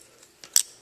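Scissors trimming the ends of wire on a dragon coil for a vape build, heard as a single sharp, close snip after a faint lighter click.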